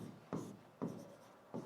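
Chalk or marker writing on a board during an English grammar lesson, three short scratchy strokes spaced about half a second apart, quiet and close with no talk.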